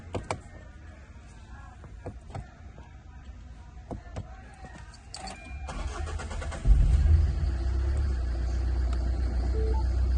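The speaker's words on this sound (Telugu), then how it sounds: "ఇంజన్ కూడా చాలా నాయిస్, ఎలాంటి ప్రాబ్లం లేకుండా ఉంది. ఒకసారి చూడండి, ఇంజన్ సౌండ్ కూడా చూడండి." A Tata Altroz XT diesel car with about 108,000 km on it is heard, with faint clicks and handling noises followed by the engine cranking and catching, then settling into a loud, steady low rumble at idle.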